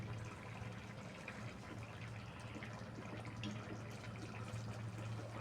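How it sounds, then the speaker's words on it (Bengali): Boiling water is poured into a pot of chicken vegetable khichuri, a soft, continuous, faint splashing and gurgling of liquid, quiet and steady with no talking. "জলটা একটু ফুটিয়ে রেখেছিলাম, ফুটন্ত জলটা দিয়ে দিচ্ছি।"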